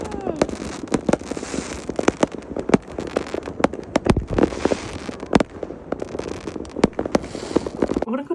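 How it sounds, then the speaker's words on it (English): New Year fireworks in Iceland bursting close by, a rapid irregular string of loud cracks and bangs with crackling in between, continuing throughout. "So everyone was going crazy with their fireworks and they were so close."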